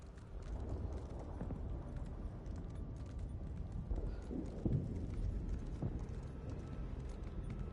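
Horse hooves clop along in The Elder Scrolls Online, a faint steady stream of muffled footfalls over low background rumble, with a few heavier thuds midway and no speech.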